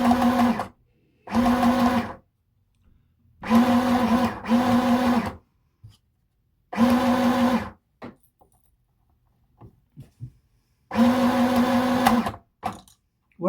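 A sewing machine back stitching a red cotton skirt runs in short bursts of even, rapid stitching, five or six spurts of a second or two separated by silent pauses, close and fairly loud.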